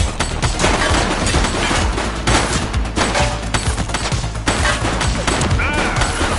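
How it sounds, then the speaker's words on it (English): Dense, loud gunfire in The Precinct, rapid repeated shots and bursts crackling almost without pause at close range, with a voice shouting briefly amid the fusillade. "Shots fired!"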